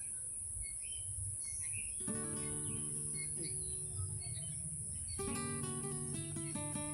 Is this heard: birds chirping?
yes